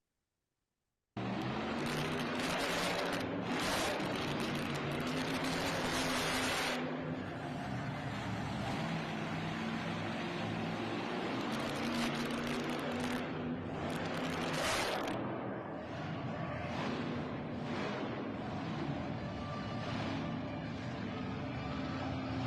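A truck drives over a dirt mound at an outdoor event, its steady engine rumble and rolling noise continuous and fairly close, with no talk.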